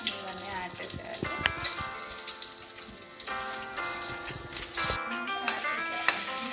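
Butter heating in a pan on an Indian home stove, sizzling steadily under background music with occasional stirring clinks.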